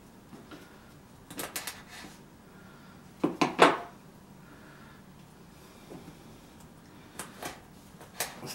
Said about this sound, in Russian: стараемся мелко его шинковать